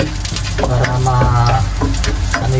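Ingredients for homemade ramen fry in a pan while being stirred, a loud steady sizzle with repeated scraping and clinking stir strokes, close up.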